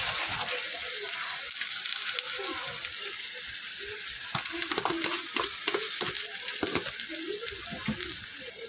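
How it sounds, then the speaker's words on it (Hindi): Masala for kofta curry is stirred in a pan over a medium flame, with a continuous sizzle and frying hiss broken by scraping strokes of the spoon. "फ्लेम को आप लोग मीडियम ही रखिएगा, इसे अच्छी तरह से चला लेना है हमें।"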